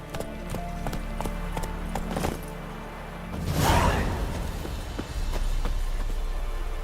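Roach the horse gallops in The Witcher 3, a steady clip-clop of hooves under game music and ambience, rising to a louder rushing swell midway before the hoofbeats carry on.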